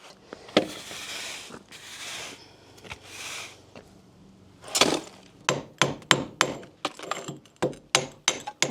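Rusty screws being worked out of a barn window frame, with scraping bursts followed by a run of sharp, rhythmic metallic knocks and clinks close by.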